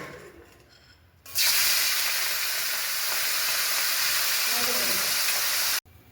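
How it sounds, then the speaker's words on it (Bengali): Turmeric-and-salt-coated shrimp dropped into hot oil, a sudden loud sizzle bursting in after a quieter start, then holding steady and close before cutting off abruptly. "নুন হলুদ মাখানো চিংড়ি মাছটা ভেজে নেব"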